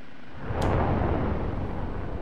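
A missile launch from an OH-58D Kiowa Warrior helicopter in DCS combat simulation: a sharp onset jumps into a loud, broad roaring rush that holds steady for a couple of seconds with no voices.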